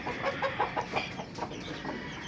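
Chickens cluck steadily at close range, several soft overlapping clucks in a busy rhythm over a dense, noisy background.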